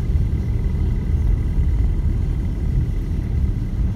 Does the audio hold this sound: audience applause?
no